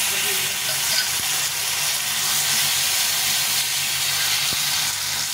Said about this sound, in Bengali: টমেটোটা একটু ভাজা ভাজা করে নেবো